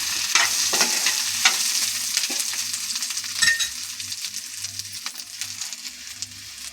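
Sliced onion softening lightly in hot oil in a pan while cooking an Andhra-style bottle gourd yogurt dish, giving a steady close sizzle with scattered sharp clinks and scrapes of a spoon stirring, and no voices.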